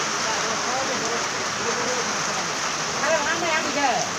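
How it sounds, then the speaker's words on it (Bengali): Heavy rain pours steadily in a downpour, a dense, continuous hiss that stays loud throughout, with faint clatter and a few indistinct sounds rising near the end. "কখন বৃষ্টি থামবে"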